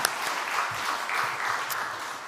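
Applause from a church congregation during a Sunday worship service, a steady, even wash of clapping held at moderate level throughout without any voices standing out.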